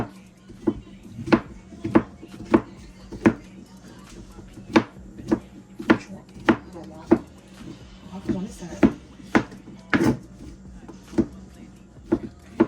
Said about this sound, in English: You're just gonna do like a little rough chop, y'all.